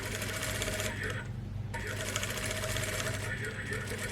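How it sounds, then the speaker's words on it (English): A sewing machine stitches a seam at a 1 cm allowance with a back tack, a rapid close mechanical whirr that pauses briefly and then resumes, while a voice speaks over it. "Lower our needle, do a back tack"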